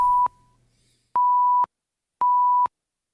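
Three clean electronic beep tones of equal pitch used as edit-cut markers, the first short and the next two about half a second each, evenly spaced with silence between them.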